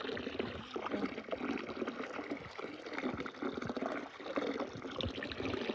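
Water splashes and trickles steadily as produced items are rinsed by hand before being spread out to dry in the sun, a continuous close wet sloshing with small irregular bursts throughout.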